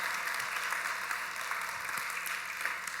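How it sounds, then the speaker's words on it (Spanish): A church congregation applauds steadily during a sermon by Pastor Alvaro Segura, a dense, even wash of many hands clapping that holds at constant loudness throughout without a break. "usted dése un aplauso y déle un aplauso al que vive"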